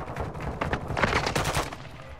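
Rapid assault-weapon fire in Call of Duty Modern Warfare II, a dense, continuous rattle of close, loud shots with no pause.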